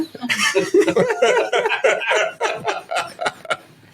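A wild turkey calls during a turkey hunt, a run of loud, close clucking and yelping notes in quick, uneven bursts with short gaps between them.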